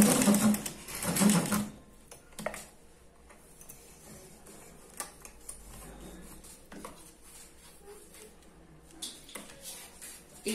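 A sewing machine stitches rapidly while backstitching a zipper into fabric, with loud bursts of mechanical whirring at the start and quieter intermittent clicks and short runs of stitching afterward.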